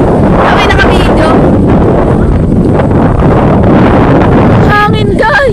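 Strong wind blasts loudly and constantly against the microphone, with brief voices breaking through near the end.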